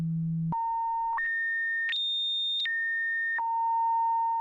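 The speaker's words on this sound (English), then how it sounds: "You can control the frequency of the oscillator using this pot, short for potentiometer, or knob." A Moog analog synthesizer oscillator gives a pure, steady tone that steps up through several pitches and then back down, clean and sustained, with no other sound.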